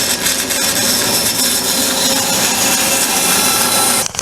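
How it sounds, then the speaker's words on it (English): Square piece of marine plywood sawn diagonally, a continuous close, loud rasping cut with quick rhythmic strokes that ends abruptly just before the finish. "I just got a 7-inch square piece of plywood and I'll cut it diagonally"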